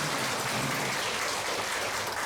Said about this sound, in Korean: 우리 장로님들 위해서 박수 한번 하겠습니다